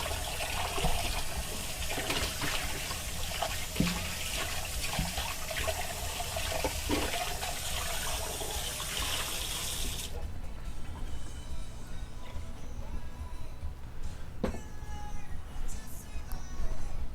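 Tap water runs steadily into a kitchen sink while a bowl is rinsed, a continuous loud hiss and splash that cuts off partway, leaving faint drips and small clinks.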